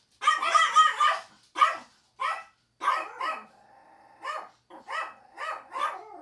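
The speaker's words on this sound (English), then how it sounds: "Let me let my dogs bark." Several dogs barking indoors, a run of sharp close barks in irregular bursts with short pauses, a faint whine between them.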